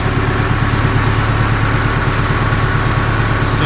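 A diesel Case IH 85 Series tractor engine idles steadily close by on a warm day, a low rhythmic chugging with a constant rumble and no change in pace.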